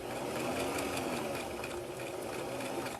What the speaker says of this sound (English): Then I'm going to sew forward.